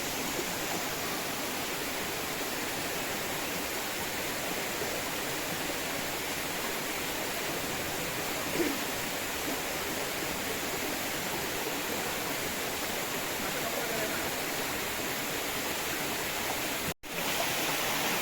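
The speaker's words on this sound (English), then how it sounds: "we have arrived at the Jackfruit Falls, and the waterfalls are behind me." Jackfruit Falls in Indonesia pours in a constant, dense rushing roar of falling water, steady and loud throughout with no talk, briefly cut by a short dropout near the end.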